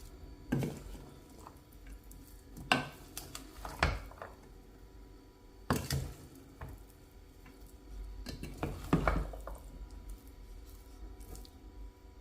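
Dry Olivier salad with porcini mushrooms, dressed only with salt and pepper and no mayonnaise yet, is mixed by hand in a bowl. Repeated wet, squelching stirring strokes come in uneven bursts with pauses between them.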